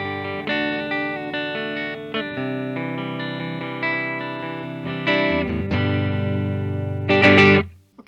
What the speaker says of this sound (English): let's go ahead and run through the tones of this guitar